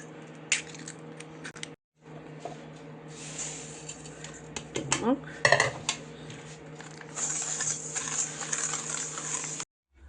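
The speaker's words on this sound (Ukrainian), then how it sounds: "будемо зараз яєчки збивати з цукром" Eggs are whisked with sugar in a bowl, a close, busy clatter of whisk against bowl in fast irregular strokes, pausing briefly near the start and at the end.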